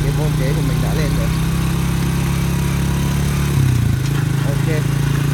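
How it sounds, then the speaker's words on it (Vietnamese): A Honda Dream motorcycle engine runs steadily while being ridden, a constant low throbbing hum with a slight shift in pitch partway through as the bike pulls along, heard close and loud with someone talking over it. "bắt đầu nổ máy, bắt đầu đi cái kim đồng hồ của mình bắt đầu nhích thôi."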